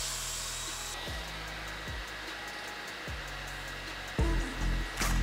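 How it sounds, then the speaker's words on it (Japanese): A handheld hair dryer blows on a man's medium wolf-cut hair after towel drying, a steady loud whirring roar broken by repeated dips and surges as the airflow is moved or switched, with no speech. "だいたいこれくらいタオルドライしたら、またこれくらいの長さだったらドライヤーでしっかりと根元から癖づけていきます。"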